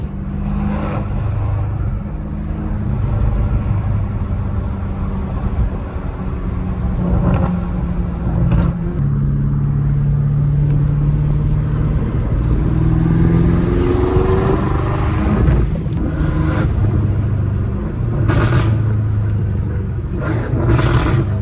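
A 650 hp BMW M5 Competition accelerates hard, its engine rumbling and rising through gears in a continuous roar with shifts and whooshing road noise.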